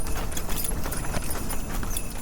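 Horse hooves clip-clop at a steady walking pace, close and fairly loud, with a regular rhythm of hard knocks and no talk over them.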